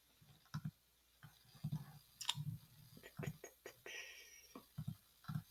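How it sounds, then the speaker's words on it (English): Computer mouse clicked repeatedly while browsing, sharp close clicks in irregular pairs and bursts, quiet overall with no talking. "sorry, I'm clicking around"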